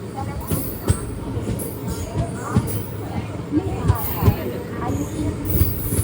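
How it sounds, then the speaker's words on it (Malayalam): West Coast Express train arriving at Sankari Durg station, with a low rumble, clatter and faint wheel squeal at the platform under ongoing talk. "7:25 ട്രെയിൻ ഇതാ ശങ്കരി ദുർഗ് സ്റ്റേഷനിലേക്ക് എത്തിക്കൊണ്ടിരിക്കുകയാണ്."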